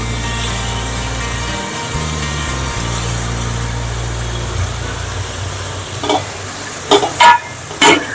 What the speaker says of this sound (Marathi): तर या स्टेजवरती आपण ह्याच्यात टॅमॅटो ऍड करतोय.